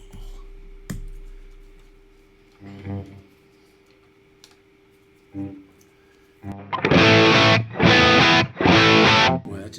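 A Les Paul electric guitar with P90 pickups plays through distortion effects, first a few sparse clipped notes with clicks and pauses, then loud sustained distorted chords in three heavy bursts.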